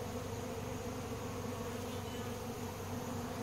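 Honey bees working over stored hive frames set out some 40 to 50 feet from the hives, a steady, dense insect buzz with no pauses.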